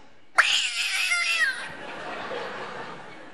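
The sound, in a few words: person imitating a cat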